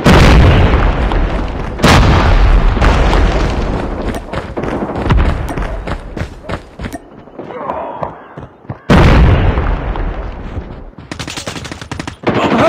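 Call of Duty battle with loud, close bursts of machine-gun fire, heavy booming grenade explosions and rapid shots, dense and continuous with brief lulls between volleys.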